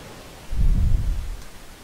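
A lightning spell in a Warcraft III Castle Fight custom-map match lands with a deep rumbling thunder crack that swells after half a second and rolls away over about a second, with no talk over it.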